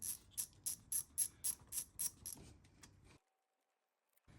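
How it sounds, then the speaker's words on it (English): A ratchet fitted with a 10mm socket undoes a bolt on a Seat Arona during a coil pack replacement, giving about nine crisp, evenly spaced clicks up close before it stops and falls silent. "Yes, it is just a 10mm socket on there. So we undo that one."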